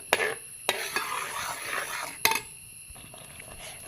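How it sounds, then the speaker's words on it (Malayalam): A spoon stirs a thick jackfruit and jaggery mixture in a pan, making soft scraping and sizzling with a few sharp knocks against the pan, close and fairly quiet. "ഒന്ന് ഇളക്കി കൊടുക്കാം കേട്ടോ."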